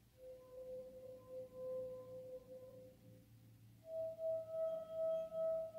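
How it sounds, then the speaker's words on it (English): Rubbing the rim of water-filled glasses draws a pure, sustained singing tone, first one pitch, then a higher steady note from a glass with a different water level, faint and pulsing slightly with each stroke. "when I'm rubbing the top of the glass, it's getting the glass vibrating."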